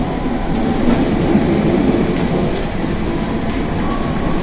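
Steady rumble of a train in motion with rhythmic clickety-clack from the wheels and a faint squeal, no voices.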